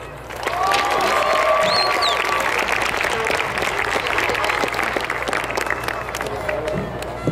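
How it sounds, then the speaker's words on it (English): Audience applause at a class of 2011 graduation ceremony welcoming the guest speaker: dense, steady clapping mixed with crowd cheers and a few whistles, filling the whole stretch at close, loud level. "Please join me in an applause and welcome our honored guest speaker, Ms. Adelita Grijalva."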